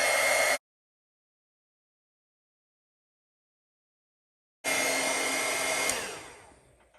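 A heat tool blows briefly, stops for several seconds, then blows again while heat embossing a card sentiment, the second burst fading out as it is switched off.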